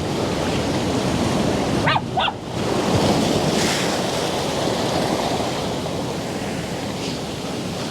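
Ocean waves break and white-water surf rushes up a beach in a continuous roar, with wind buffeting the microphone; a dog barks briefly a couple of times partway through.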